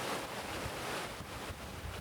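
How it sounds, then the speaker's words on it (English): Sea waves splashing, heard from a boat or railing by the water: a continuous broadband wash of surf mixed with wind rumble, fairly loud and close, with no voices. "I get to enjoy the calmness of the waves splashing."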